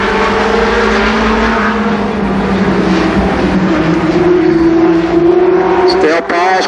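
Race cars roar around the oval at Columbus Motor Speedway during a 10-lap event, their engines droning loud and continuous with a rising pitch as the pack passes. An announcer talks over the engine noise throughout.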